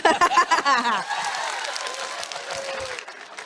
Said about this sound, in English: just trying to get you guys to clap